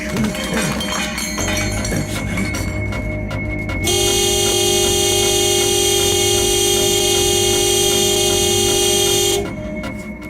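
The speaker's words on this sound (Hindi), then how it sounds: "ऐसे हॉर्न क्यों बजा रहे हो?" A car horn blares in one long, loud, continuous honk lasting several seconds, preceded by shorter honks and traffic noise.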